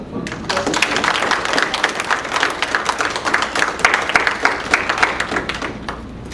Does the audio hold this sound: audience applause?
yes